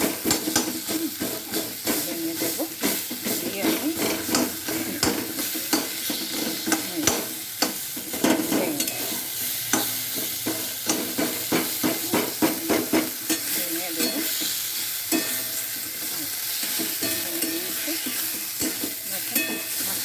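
A half fried fish head is broken up and stirred in a pan for a kochu shak dish, the spatula scraping and clattering in rapid, uneven strokes over a steady sizzle. A voice speaks briefly.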